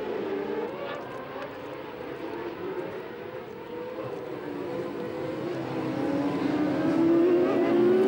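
Supersport motorcycles set off at the start of a race on a circuit, a blended engine drone heard from a distance that swells and rises in pitch as the pack accelerates.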